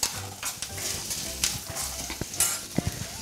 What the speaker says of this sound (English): Give the mixture a stir and sauté until the onions have become lightly tender.